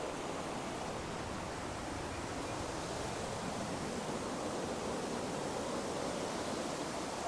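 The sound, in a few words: waterfall at the start of the Valley of Flowers trek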